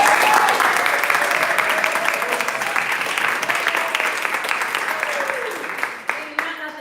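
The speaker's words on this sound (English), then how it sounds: "Please applaud." Audience at a literary arts organization's reading event applauds steadily, a broad wash of many hands clapping at moderate volume that thins slightly toward the end.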